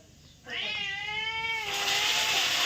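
A house cat gives one long, drawn-out meow, close and clear, rising then holding into a louder wavering cry that continues to the end.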